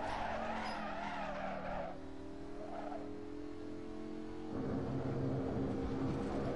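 Lamborghini braking hard from speed: a long, loud tire squeal with a wavering pitch, the engine droning underneath, swelling again near the end with no voices over it.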